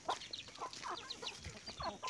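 Several chickens cluck close by in short, overlapping calls, a busy and steady rhythm with no talking.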